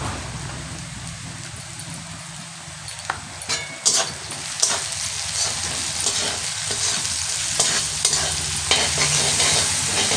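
Spices with salt and turmeric sizzle loudly in a pan for mutton curry, a dense close frying hiss broken by repeated scraping strokes of a stirring spoon.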